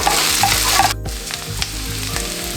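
Onions hit about two tablespoons of hot cooking oil for a shrimp curry, a loud, steady crackling sizzle with a brief gap near the middle before the frying hiss resumes.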